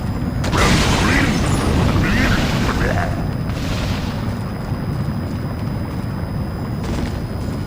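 A machine activating in the video game Skylanders Giants gives a loud mechanical rumble with booming bursts in the first half, then a steady churning drone that carries on to the end.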